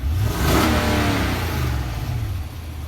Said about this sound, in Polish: Słyszałem lepsze, ale i tak brzmi jak trasowa V8, bo nią jest.